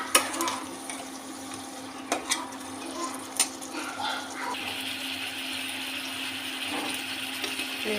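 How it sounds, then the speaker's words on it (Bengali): Fish pieces stirred in a pan with spices, a soft steady sizzle and frying hiss with occasional scrapes and knocks of a utensil, close and fairly quiet, no talking. "ভালোভাবে নেড়ে চেড়ে একদম মাছের সাথে মশলা মিশিয়ে নিয়েছি।"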